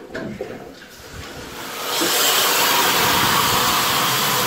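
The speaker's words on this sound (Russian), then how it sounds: "Таким образом можно регулировать не только шум выходящего пара, выдаст печка какой пар." Steam hisses loudly from a cast-iron sauna stove, starting with faint rumbling and then swelling around midway into a strong, steady broadband hiss that carries on to the end.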